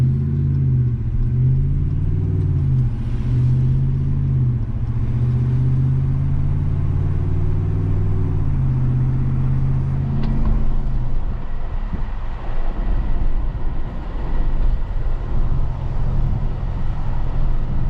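A 2019-or-later Ram 1500 pickup with the 5.7 Hemi V8 and a Borla S-Type catback exhaust cruises at about 35 mph in eco mode, giving a steady, loud low exhaust rumble from start to finish.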